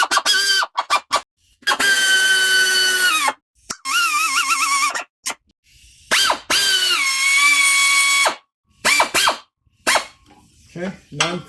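A power tool running down engine block bolts on a 2008 Acura MDX, in repeated whirring bursts of a few seconds each with rising and falling pitch, separated by short pauses, loud and close.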